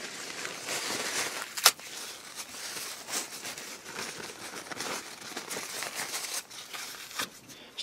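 Blue kitchen roll paper is crumpled and crinkled at a model-building bench during a 1/35 scale Takom British Chieftain Mk 10 tank kit build, a steady close rustle with one sharp crackle early on.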